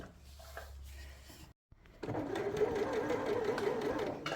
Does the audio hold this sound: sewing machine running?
yes